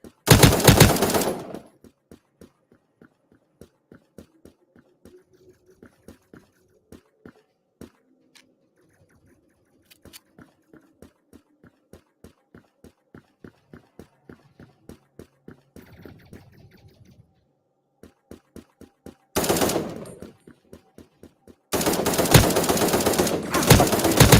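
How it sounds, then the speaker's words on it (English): Automatic gunfire in a video game, with loud bursts of rapid machine gun shots at the start and end and a long stretch of quieter, evenly spaced single shots in between, with no speech. "So much shooting."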